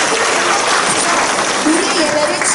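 A church congregation applauds during an energetic worship service, a loud, dense, continuous wash of clapping with voices mixed in throughout.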